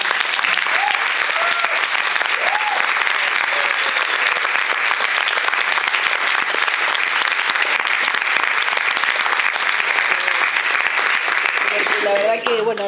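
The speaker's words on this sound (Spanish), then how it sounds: "brindarte un aplauso gigante" Audience at a book presentation breaks into sustained, dense applause, a loud continuous wash of clapping lasting over ten seconds with faint voices mixed in.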